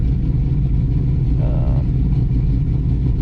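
A Chevrolet Camaro Z28 engine idles high after a fresh tune, a steady loud mechanical drone with a low rumbling base that holds constant throughout, with no speech.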